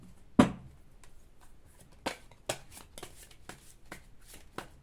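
Tarot cards shuffled by hand in a quiet room, one sharp riffle followed by a series of soft, irregular flicks and slides, close and faint with no talk.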